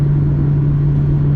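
Inside a Mazda 323F V6 cruising at 60 mph, just under 3,000 rpm, a loud, steady low engine drone hums with constant road rumble and no talking.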